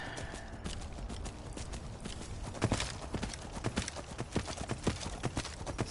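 Arvak, the spectral horse from the Soul Cairn in the video game Skyrim, galloping with a quick, rhythmic clip-clop of hooves that grows more pronounced midway, set against a low, steady background.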